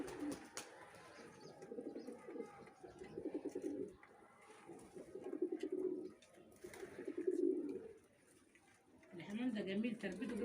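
Pigeons coo steadily on a rooftop where poultry are kept, soft repeated throaty calls in clusters, with occasional chirps and a person speaking intermittently over them.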